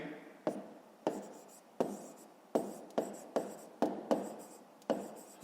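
Pen strokes on paper during a 5th-grade maths exercise, a series of about nine short scratchy strokes in a steady rhythm, close and fairly quiet, with no talking.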